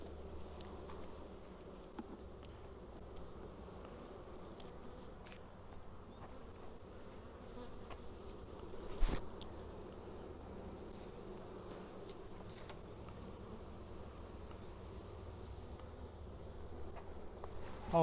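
Honey bees buzzing around the inner cover of a hive box, a faint, continuous hum of many insects close by with a brief louder bump midway.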